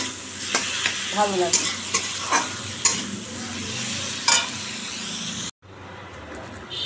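Pointed gourd frying in oil, stirred with a spatula scraping and clacking against the pan over a continuous sizzle, close and fairly loud, with brief speech and a short drop-out near the end.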